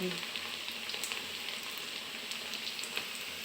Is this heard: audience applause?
no